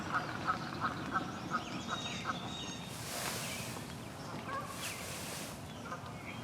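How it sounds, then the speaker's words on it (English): A series of evenly spaced honking calls from geese rings out at moderate distance in a swampy marsh, followed by splashing water. "those geese are angry"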